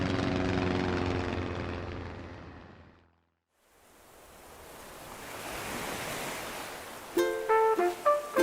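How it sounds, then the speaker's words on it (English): In Animal Crossing: New Horizons, a charter flight plane approaches a deserted island: soft music fades into silence, then a broad airy roar swells steadily and is capped by a few bright chime tones. "The Nook Inc. Getaway Package charter flight will soon be arriving at the deserted island"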